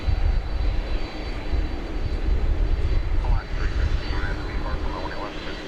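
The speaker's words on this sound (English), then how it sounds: "One World livery of Alaska Airlines. I believe this is a 737-900." A Boeing 737-900 jet in Alaska Airlines Oneworld livery, bound for Seattle at Dallas Fort Worth airport, gives a steady broadband engine roar that holds loud throughout, with faint chirps in the upper range.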